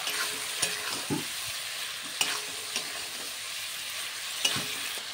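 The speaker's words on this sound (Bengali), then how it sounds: "এরপর ভালো করে আবার একটু আমি নাড়িয়ে দেব" Chicken fries with ground cumin and other spices in a pan, a soft continuous sizzle broken by a few sharp scrape-and-stir clicks of a spatula, close by and without speech.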